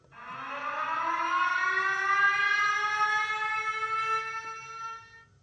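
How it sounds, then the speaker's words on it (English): Loud horn sound effect fired from a DJ sampler mapped to a Rane One controller, a single rising siren-like blast that swells within a second, holds steady for about four seconds, then cuts off. "let's press this loud horn right here"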